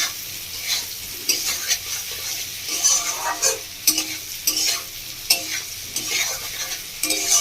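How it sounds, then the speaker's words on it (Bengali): Fish roe being stirred as it fries in a pan, with a soft ongoing sizzle and regular scraping strokes of the spatula, close and moderately quiet. "ডিমগুলো দিয়ে আর ডিমগুলো একটু নাড়াচাড়া করে নেব"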